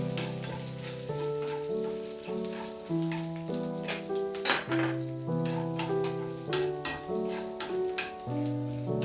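Slit green chillies frying in oil in a pan for a Kerala-style buttermilk curry: a continuous hissing sizzle with occasional stirring clinks, partly masked by loud background music.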